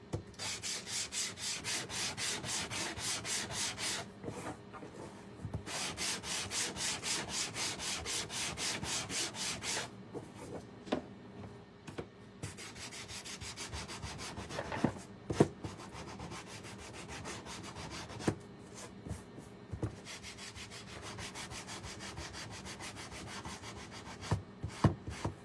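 Hand sanding with sandpaper on a stitched Santa Claus sitter craft, rhythmic back-and-forth scratchy strokes in fast bursts with brief pauses, close and alone, later turning to slower, more scattered rubbing.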